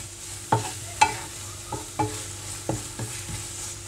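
Masala for prawn thokku fries and is stirred in a pan, with a steady sizzle broken by several sharp spoon scrapes and clinks at uneven intervals, close and fairly loud.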